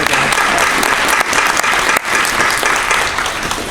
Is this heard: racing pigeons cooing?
no